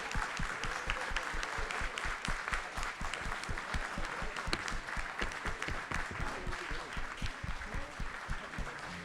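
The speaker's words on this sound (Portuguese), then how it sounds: "Palmas para Rosa." Audience clapping for author Rosa Freire d'Aguiar at a book fair event, a fairly quiet but dense, steady patter of many hands that continues without talk.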